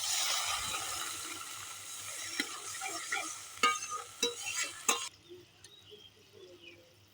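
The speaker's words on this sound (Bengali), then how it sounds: "এবার সামান্য জল দিয়ে দেবো।" Masala spices frying in a pan as a little water is poured in, giving a sustained sizzle with scattered clicks of stirring, which cuts off abruptly near the end to quieter faint scraping.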